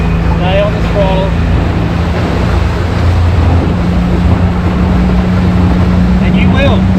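Small tinny with an outboard motor running steadily at sea, a continuous loud engine drone with wind and water noise, throttle held on while surfing down waves, with a voice briefly audible over the motor.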